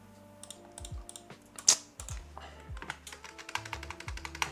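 Close-up clatter of fingers typing on a computer keyboard that seems to be misbehaving, with quick irregular key taps and a few louder presses in a quiet room.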